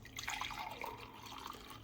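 Celery juice fresh from a Ninja NeverClog cold press juicer pours into a glass, a soft continuous trickle and splash with faint dripping, close and quiet, no talk.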